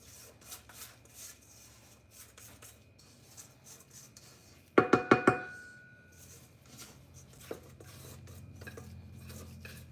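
Old-fashioned sour cream pound cake batter being mixed and scraped from the bottom of a bowl: a quick burst of scraping clinks midway, with soft rubbing and stirring noises before and after.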